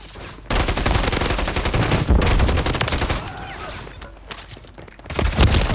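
Rapid, loud bursts of automatic gunfire from a video game, played through a cheap gaming headset, firing in sustained volleys with brief pauses before a final burst.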